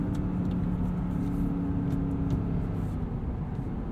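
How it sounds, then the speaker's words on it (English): The 5-liter naturally aspirated V8 of a 2022 Lexus IS 500 pulls hard under acceleration as a steady, dense rumble heard from inside the cabin, continuous and fairly loud throughout. "Tons of torque from this 5-liter V8."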